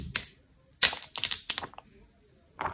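Protective film being peeled off a Samsung Galaxy Z Fold 2 phone, heard as several short, crisp tearing bursts with brief pauses between them. The sound is close and there is no talking over it.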